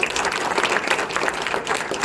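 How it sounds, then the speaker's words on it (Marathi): An audience applauds to welcome chief guests at a startup event, a dense, steady patter of many hands clapping at a moderate distance without a break. "तर आपण त्यांचं जोरात टाळ्या वाजून एकदा परत स्वागत करू"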